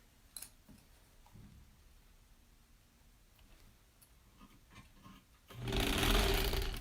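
Sewing machine stitching quilt block seams for a granny squares quilt, quiet handling and light ticks at first, then a loud steady run of fast stitching in the last second or so.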